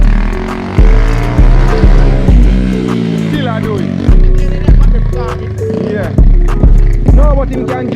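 A 50cc mini dirt bike engine revving in repeated short bursts, each rev rising sharply then fading, close and loud, with people talking over it.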